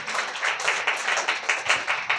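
A church congregation claps loudly in unison, a fast steady rhythm of about a dozen sharp claps close by with no talking.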